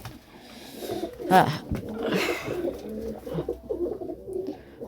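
A pigeon coos softly at close range in a few low, throaty phrases while someone talks over it.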